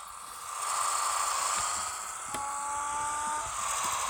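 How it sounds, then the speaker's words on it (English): Supercharged muscle car engine in the racing game Pixel Car Racer, a steady loud drone with a whine climbing through a quarter-mile run, and a brief shift near the middle. "So that's why supercharger sounds better in my opinion."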